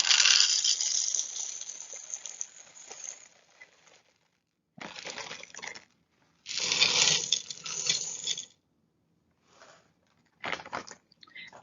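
Mini M&M candies pour into a bowl in several separate bursts of bright rattling and clattering, loud at first and then in shorter pours with silent gaps between.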